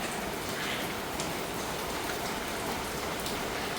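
Rain pours down in a constant, uniform hiss, with occasional louder drops striking nearby surfaces.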